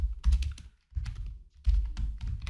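Keys clatter on a computer keyboard while C code is written, close-up, in quick bursts of tapping separated by short pauses, with no voice.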